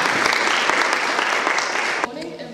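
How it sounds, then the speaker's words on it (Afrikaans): An audience at a tomb unveiling claps warmly in a dense, steady round of applause that stops abruptly near the end, leaving a voice speaking. "Kan ons baie lekker aan die klap gee."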